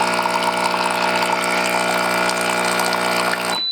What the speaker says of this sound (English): And also the machine can produce hot water.